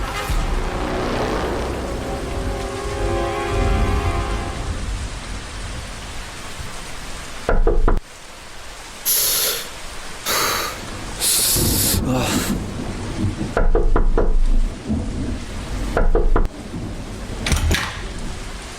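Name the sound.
sudden rain with thunder in forest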